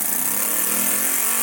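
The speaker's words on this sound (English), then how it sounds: "let's try out this new piston head in a single piston engine config to see how it runs" A Lego air-powered single-piston engine runs on low air pressure under 40 psi, giving a continuous loud whirring hum with a steady rapid pulse and hiss, close up and unbroken.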